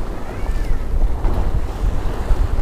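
Waves wash around a boat amid heavy wind buffeting the microphone, a loud, continuous rumble and rush.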